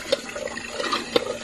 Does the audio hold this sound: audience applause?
no